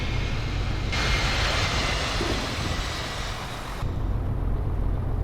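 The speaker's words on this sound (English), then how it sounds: "That sounded like a jet." A jet aircraft roars overhead near a road, a loud broad rush that swells for a few seconds and then drops away abruptly, with no talking.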